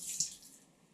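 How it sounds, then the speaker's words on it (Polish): Water poured onto a floor to test a Parkside PWD 20 B2 1300 W wet-dry vacuum cleaner, a brief close splash and trickle that fades quickly. "Ładnie rozlewamy sobie wodę."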